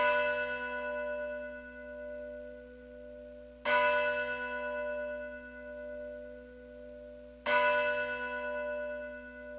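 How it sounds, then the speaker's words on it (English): A church bell tolls three slow, evenly spaced strikes, each ringing out with rich overtones that decay gradually before the next, moderately distant and alone. "He rang the bell to call the people to worship"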